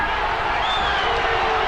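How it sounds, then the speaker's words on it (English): Rugby league crowd at a 1993 Canberra versus Parramatta round 6 match howls in a loud, sustained roar of massed voices, steady throughout with no break. "Crowd howling about the 5-metre rule."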